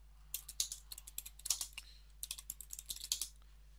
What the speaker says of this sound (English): You can get it by typing in ifconfig.